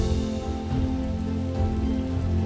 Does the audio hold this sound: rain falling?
yes